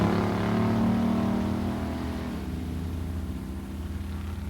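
A 1970 Duster 340 and a 1967 Coronet Hemi automatic drag race at a pure stock drag event, heard as a steady, droning engine roar in the distance that eases slightly partway through.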